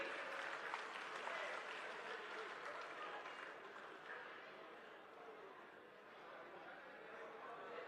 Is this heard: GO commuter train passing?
no